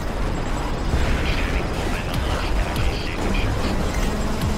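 Crashing, rumbling explosions and clattering debris from the Screamride game, a loud continuous blast of booms and bursts with sharper pops scattered through, close and chaotic.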